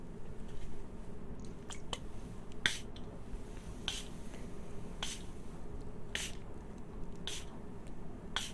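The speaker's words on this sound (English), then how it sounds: "First, again, is the short spray" Short, crisp bursts from a spray bottle puff out one at a time in an irregular rhythm, close and quiet, in an ASMR setting recorded with a 3Dio binaural microphone.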